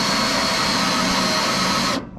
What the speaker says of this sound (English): My 15-year-old drills are dying.